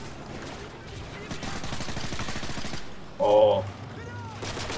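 Gunfire in the Modern Warfare campaign, a quick burst of rapid shots under steady game noise followed by a sharp louder hit, with a brief exclamation from a player.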